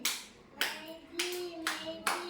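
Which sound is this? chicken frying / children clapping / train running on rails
children clapping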